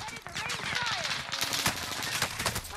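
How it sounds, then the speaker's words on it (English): Rapid bursts of gunfire from NZ-41 and MP40 weapons crackle continuously in a World War II shooter battle, loud and dense with overlapping shots near and far, while a player's voice talks over the fight. "I was getting shot from everywhere!"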